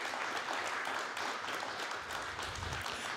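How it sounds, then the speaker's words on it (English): Faint, distant audience applause rises steadily at a morning award presentation, a soft continuous patter of many hands with no talking over it. "give them all another round of applause"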